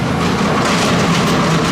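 A roller coaster train runs on the track of a looping ride built into the hillside at Six Flags Magic Mountain, making a loud, steady rumble and rattle throughout with no voices.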